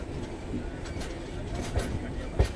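A passenger express train, the Tinsukia–Bengaluru Express, rumbles along with a steady low rattle and occasional clicks from the wheels, heard from inside the carriage at moderate volume.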